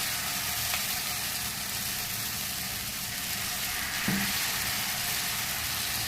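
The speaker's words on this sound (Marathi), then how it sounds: "आपला तवा सुद्धा छान गरम झालेला आहे। आता आपण थालीपीठ घालून घेऊ। त्यावर थोडे तेल घालून घेतले आहे।" Cucumber thalipeeth sizzles in oil on a hot griddle, a dense continuous hiss with a faint scrape near the middle, close and steady.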